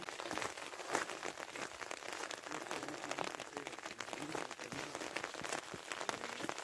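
Steady rain patters on a surface, a dense, even hiss of drops with scattered louder taps, continuous throughout.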